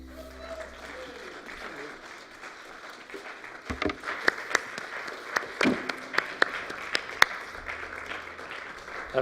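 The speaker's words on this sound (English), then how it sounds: "That's called a round of applause." A church congregation gives a round of applause at a worship service, many hands clapping in a steady rising wash with a few sharper nearby claps standing out, filling the room without talk.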